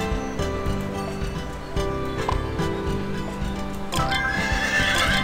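In the video game Horse Farm, a horse whinnies loudly over rhythmic clip-clopping hooves and light game music, with a second neigh near the end.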